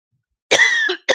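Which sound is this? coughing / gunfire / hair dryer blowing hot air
coughing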